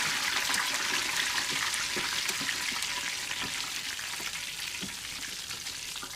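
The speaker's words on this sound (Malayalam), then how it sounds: "ബാക്കിയുള്ള എണ്ണയിലോട്ട് നമുക്ക് കുറച്ച് കറിവേപ്പില ചേർക്കാം ഇതിനെ കൂടെ ഫ്രൈ ചെയ്തെടുക്കണം" Curry leaves frying in leftover oil from a Kerala quail fry, a steady close hiss of sizzling with crackling pops throughout, holding fairly constant and easing slightly toward the end.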